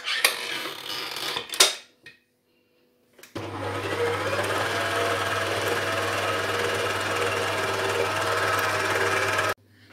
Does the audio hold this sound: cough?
no